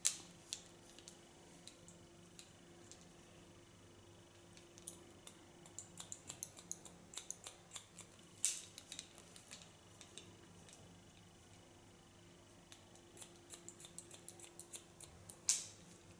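Scissors point cutting hair during a short pixie haircut, a long run of faint, quick snipping clicks in uneven clusters with a couple of sharper snaps, no talking.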